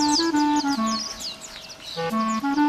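Close, loud birdsong made of repeated whistled chirps and tweets in quick trilling phrases, carrying on with only a brief lull midway.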